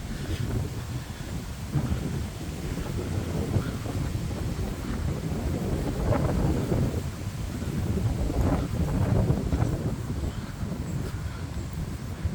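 Steady low rumbling wind buffeting the microphone outdoors beside a former 1960s office building, a constant roar with occasional heavier gusts and no voices.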